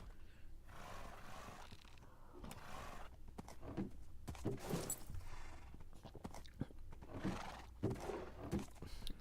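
A horse in the video game Minecraft neighs and whinnies several times over clip-clopping hooves and steady background game noise, with the calls coming in loud bursts.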